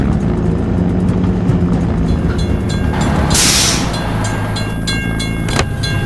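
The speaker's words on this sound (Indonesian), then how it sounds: "Kita harus menunggu hingga kereta lewat." A train rolls past a closed level crossing in a construction-vehicle video game, a loud, steady rumble of rail wagons throughout with clattering and a bright burst of bell-like noise midway, no voices.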